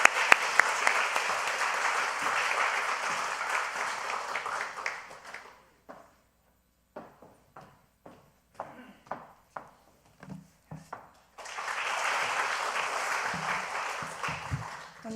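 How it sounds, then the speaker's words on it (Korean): Applause rises in a church congregation at a new-members graduation and baptism service, a dense burst of clapping that breaks off, gives way to a few scattered claps, then swells again to full applause. "우리 박수로 격려하겠습니다"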